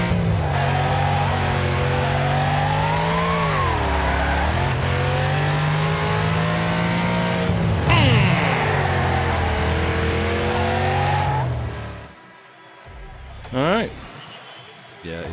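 A race car engine roars at full throttle in the Wreckfest racing game, loud and steady with gear-change dips and a sharp rise in pitch, then cuts out near the end. A voice talks over it.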